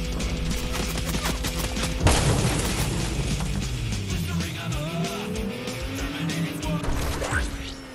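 A car in a video game revs and races with engine drone, a sudden loud crash or boom partway through, then tire squeals and skidding.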